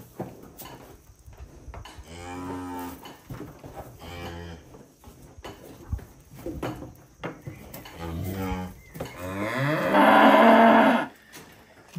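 Cattle low on a farm, heifers and a cow giving several drawn-out moos close by, the last one long and loud, with clinking metal and scraping noises in between.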